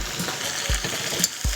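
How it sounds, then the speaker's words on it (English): Beef frying in a pan with a steady crackling sizzle, broken by a few dull thumps of stirring. "You hear that sizzle on that?"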